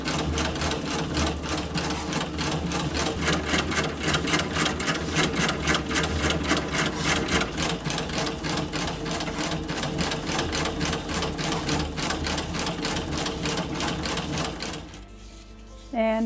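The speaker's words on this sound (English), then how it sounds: "Now we're ready to sew." An antique treadle sewing machine stitching steadily, its needle clattering in a fast even rhythm, close and loud for about fifteen seconds before it stops abruptly.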